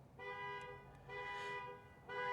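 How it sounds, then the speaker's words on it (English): A car horn honks outside near a school, in three sustained blasts with short gaps between them. The tone is steady and fairly loud, heard at a moderate distance. "And we got a guy here honking his horn."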